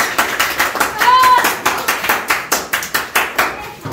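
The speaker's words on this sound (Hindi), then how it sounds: "जोरदार तालियां" A group claps in quick rhythmic bursts for a chewing gum challenge, sharp hand slaps repeating steadily and close, with a brief whistle-like tone partway through.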